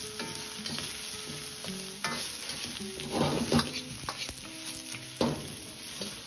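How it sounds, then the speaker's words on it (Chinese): Winter melon chunks are stir-fried in a wok with ginger slices in hot oil, giving a close, steady sizzle broken by irregular scraping and clattering strokes of a spatula against the pan. "接着倒入冬瓜翻炒，大概四十秒钟，炒出香味"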